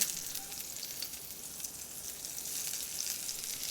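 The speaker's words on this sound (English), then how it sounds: "Nice and hot pan. We're going to char some cauliflower." Cauliflower charring in a small hot pan for a lobster pasta dish, a steady quiet hissing sizzle with no stirring or voices.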